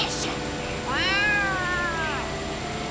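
A cat in Yakuza: Like a Dragon lets out one long, rising then falling meow, followed by a fainter short mew, over a steady game background.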